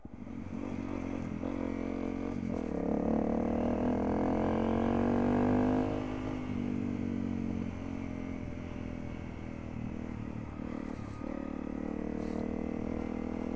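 A Honda CRF250L motorcycle engine runs steadily nearby, its low rumble swelling briefly as if revving, then settling back to a constant idle-like drone.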